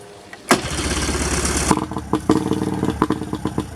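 A 1988 Mariner 40HP outboard boat engine cranks briefly, catches with a loud burst and runs unevenly at a rough idle nearby, with sputtering pops.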